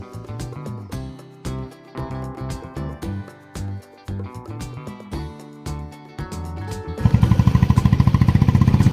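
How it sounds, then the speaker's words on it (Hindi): A motorcycle rides toward Nahargarh Fort, carrying two people on a bike that is overdue for servicing. The engine chugs in uneven pulses, then swells into a louder, rapid, rattling drone for the last two seconds. "तो हम जा रहे हैं बाइक से क्योंकि हम 2 जन ही हैं।"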